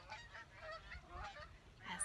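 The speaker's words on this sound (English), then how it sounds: "as geese fly by." Several geese honk as they fly past outdoors at night, a string of nasal calls spread across the moment, fairly faint and distant, with no one talking.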